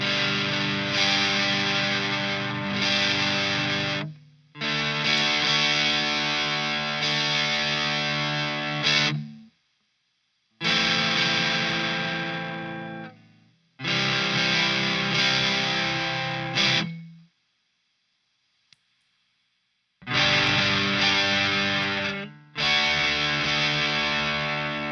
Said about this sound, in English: As far as the amount of distortion we're getting out of the pedals, now it's fairly similar.